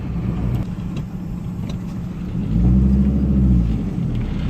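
A Volvo 850 car engine, revived after sitting with a suspected head gasket fault, runs at a steady close rumble that swells louder and deeper partway through.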